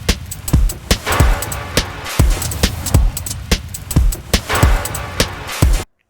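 Dry, unprocessed drum loop programmed in FL Studio, punchy kicks and crisp snares and hats in a steady repeating pattern, loud and close, ending abruptly with no voices.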